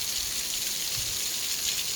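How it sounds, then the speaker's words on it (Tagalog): Rain falls in a mountain area, a soft, even hiss of drops that holds steady for a brief moment without any voices. "Nakaka-relax yung ulan."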